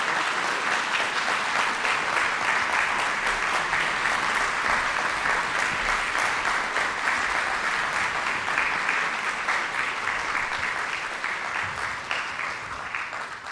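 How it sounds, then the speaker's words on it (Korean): Steady, full audience applause at a Korean choir's talk concert, welcoming baroque violinist, cellist and oboist to the stage; dense, close clapping sustained throughout and tapering slightly at the end. "박수로 와주세요"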